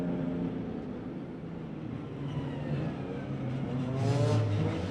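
A GT Cup race car accelerates away from Macau's street circuit near the hairpin during qualifying, a distant engine drone rising in pitch and loudness toward the end, with no voices.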